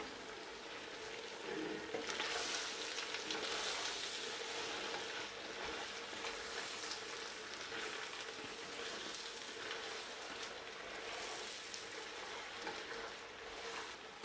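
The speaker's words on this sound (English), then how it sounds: "This is when I add in the onions and peppers and mix well." Onions and peppers frying and being stirred in a pan for gizdodo, a soft, continuous sizzle with gentle mixing swells, fairly faint and steady throughout.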